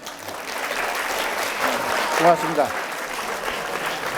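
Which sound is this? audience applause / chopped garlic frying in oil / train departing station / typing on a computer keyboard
audience applause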